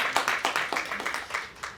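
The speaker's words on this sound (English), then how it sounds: "a round of applause for all our panelists today" Audience applause for the panelists at a peace symposium in the Parliament of New South Wales, a brief, fairly faint patter of clapping from a modest crowd.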